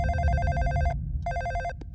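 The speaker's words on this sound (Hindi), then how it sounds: "फोन मेरे लिए है।" A telephone rings in an office with a bright electronic trill, two bursts separated by a short pause and then a few faint clicks, clear and fairly quiet with no talking.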